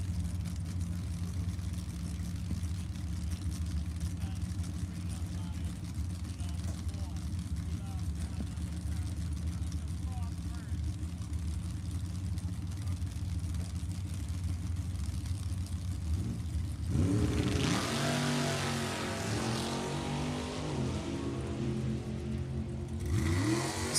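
A 1972 Shoemaker chassis dragster at a nostalgia drag strip event, heard first as a distant engine rumble under an announcer's voice, then a sudden loud roaring surge of revving near the end.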